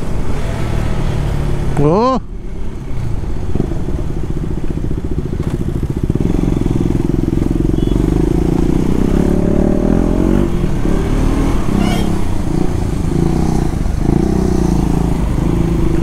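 A motorcycle engine revving loudly and continuously during a failed wheelie attempt on a street, a dense close-up roar with rising and falling pitch, and a brief voice calling out near the start.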